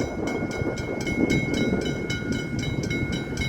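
A PT train passing at Dandenong, steady rumble with rhythmic clickety-clack of wheels over rail joints repeating every few tenths of a second, fairly close and continuous.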